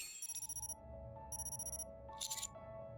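An in-game phone rings inside Nikke: Goddess of Victory: a bright electronic ringtone in three bursts of rapid trilling pulses, moderately loud and close, over a soft background music bed, with no talk.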